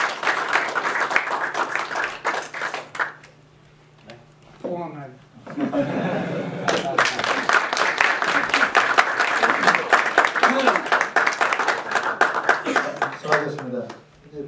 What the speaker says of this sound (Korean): 같은 박수 좀 부탁드리겠습니다